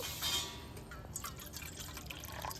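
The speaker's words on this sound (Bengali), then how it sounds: "আমি হাফ বাটি চিনি নিয়েছি দেড় বাটি জল দিয়ে দেব" Water pours into a pot with sugar for syrup, a faint splashing, trickling stream that runs continuously for a couple of seconds.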